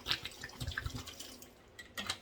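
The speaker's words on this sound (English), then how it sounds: "Add water." Water is added to a container of freeze-dried apples, a faint trickle with a few soft drips and splashes close by and no voices.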